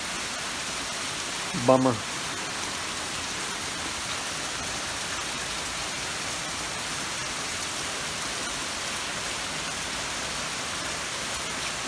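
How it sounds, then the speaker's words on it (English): Steady rain falls outdoors during a 2007 Toyota Camry hybrid battery repair, likely pattering on plastic sheeting. The even hiss persists throughout, and a person speaks one brief word near the start. "Rain, rain, go away."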